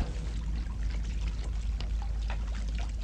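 Water pours in a steady, close gush for drinking, filling the whole stretch with a continuous splashing stream and no talk.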